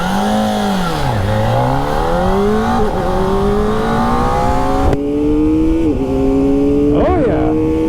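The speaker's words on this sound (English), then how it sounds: "The bike is so loud and angry." A Kawasaki ZX-4RR motorcycle accelerates hard through the gears with a quick shifter, its loud, close engine note climbing steeply, dipping at each shift and rising again.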